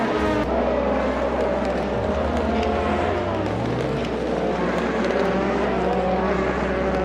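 Race cars lap the SUGO circuit in Japan, engines droning loudly and continuously with rising and falling pitch sweeps as they accelerate and shift, several cars overlapping near the microphone.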